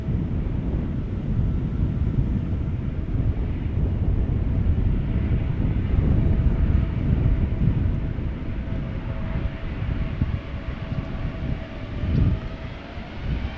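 A Cargolux Boeing 747 takes off from runway 09 at Amsterdam Schiphol. Its engines give a loud, sustained broadband roar with some wind buffeting, and no voices are heard.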